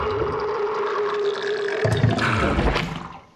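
A movie sound effect of explosive bubbling in a toilet: loud, churning liquid gurgles and sloshing pops that surge and swell before tapering off quickly at the end, with no talk over them.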